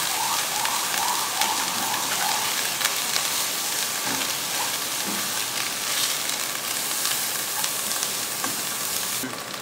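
Crushed black pepper frying in a pan for kishmish rice, giving a steady, close sizzle that runs unbroken throughout, with faint stirring clicks scattered over it.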